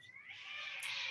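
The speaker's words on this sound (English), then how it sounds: "That kitty cat has something to say" A house cat lets out one long, drawn-out meow, fairly loud and close, rising and holding steady for about a second.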